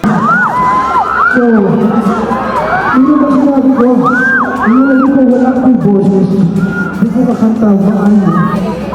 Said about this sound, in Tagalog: maririnig ang hiyawan ng mga girls dahil sa kilig nila sa binata